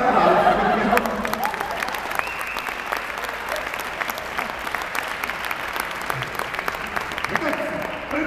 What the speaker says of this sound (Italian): fategli l'applauso